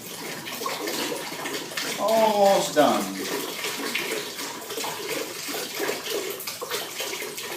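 Water drains from a toilet bowl, about 2.5 liters emptying through a poorly vented plumbing system, a steady gurgling wash with a brief louder gulping burst partway through, heard under a voice speaking briefly.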